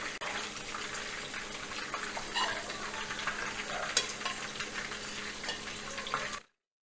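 Chicken meatballs (kofta) sizzle in hot oil as a spoon lifts and strains them, a bright continuous crackle and fizz with small scraping clinks near the pot, cutting off abruptly into silence at the end.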